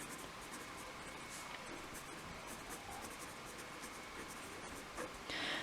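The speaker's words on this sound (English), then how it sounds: "So let's write that down." Steady scratching of a pen or marker writing out a 1D motion physics problem, a continuous close, quiet scraping texture with small stroke accents throughout.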